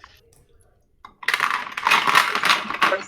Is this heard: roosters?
no